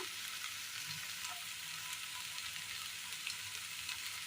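Curry leaves drop into a hot frying pan in a Kerala kitchen, giving a steady, soft sizzle and crackle of oil with faint stirring, no talk.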